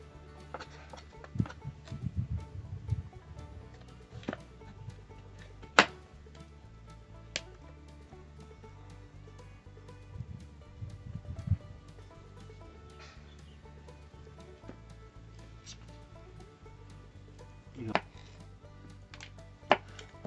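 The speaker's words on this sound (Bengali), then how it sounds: "পটলগুলোকে আমরা 1/2 করে কেটে নিচ্ছি।" Knife strokes halving tender local pointed gourd (potol) on a cutting board: a handful of sharp, separate chops spaced irregularly, close and clear over a low steady background hum.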